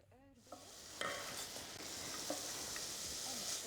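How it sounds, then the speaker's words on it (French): Butter melting with finely sliced onions sautéing in a pan, a steady soft sizzle that builds after a brief stir and carries on quietly throughout, close by with no talking. "Faites fondre le beurre et ajoutez les oignons finement émincés."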